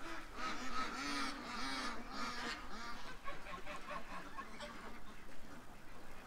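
A flock of geese honking and calling continuously, dense overlapping honks with no talking, fairly close and steady throughout.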